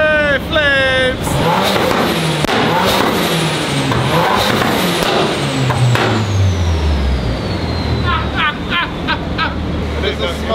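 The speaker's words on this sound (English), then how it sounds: "There's a small burble." A drift car's exhaust burbles and revs loudly at an event, with engine tone sweeping low and steady over constant crowd and background noise, plus voices talking nearby.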